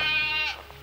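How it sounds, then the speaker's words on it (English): A goat at a Texas ranch gives a single loud, wavering bleat close by, cutting off abruptly after under a second. "go see the goats. And these suckers are loud."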